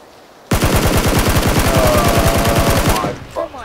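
Rapid automatic gunfire from a video game rings out in a loud, sustained burst of about two and a half seconds with evenly spaced shots, then cuts off, leaving a faint trailing noise.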